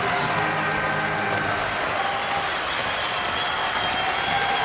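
A baseball crowd at a college tournament game in Omaha applauds and cheers steadily, a dense wash of clapping and voices filling the stadium throughout.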